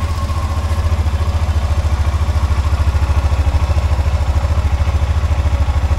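A motorcycle engine idles steadily and close after its chain has been cleaned and lubricated, with the bike put in first gear. It is a loud, even, rapid low thrum with light mechanical clatter.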